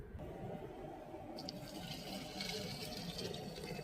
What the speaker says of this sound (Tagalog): mainit na tubig yung nilagay ko para mas madali siyang kumulo